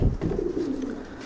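A pigeon coos softly and low, a short throaty warble heard close by with no other voices.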